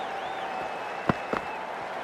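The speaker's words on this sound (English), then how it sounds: "they'll receive a warm reception from the crowd" Crowd applause in the cricket video game Cricket 24, a steady wash of clapping from a stadium crowd during an India versus New Zealand final, with a couple of brief louder knocks partway through.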